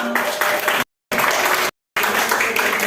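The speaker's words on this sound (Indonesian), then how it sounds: "Tepuk tangan untuk semua." Students in a secondary school classroom clapping their hands together, dense clapping in short bursts broken by two brief silent gaps.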